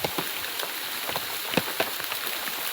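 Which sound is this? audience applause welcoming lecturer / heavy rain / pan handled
heavy rain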